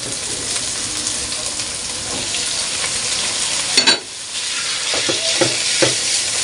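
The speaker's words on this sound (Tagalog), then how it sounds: "igisa-gisa muna natin yung ating inimay na manok" Shredded chicken sautés in a pan with garlic and onion, a steady close frying sizzle with a few clinks of stirring utensils toward the end, no talking.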